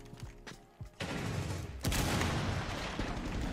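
Rainbow Six Siege gameplay: rapid gunfire rips through a door, a few separate shots followed by sustained automatic bursts that fill the rest of the moment.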